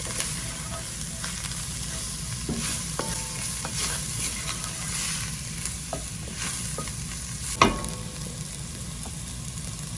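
A chowder base seasoned with cumin cooking in a pot, a steady close hiss of simmering and sizzling with occasional light spoon knocks and one sharper clack near the end, no voices.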